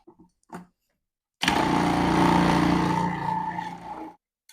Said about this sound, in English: So my food processor did all the hard grating